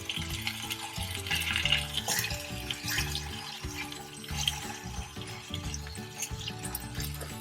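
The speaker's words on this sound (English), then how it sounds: "So now we're going to flip the tomatoes" Tomatoes fry in a pan as they are turned one by one, making a steady sizzle with soft scraping and tapping from the flipping. The sound is close and continuous, with no talking.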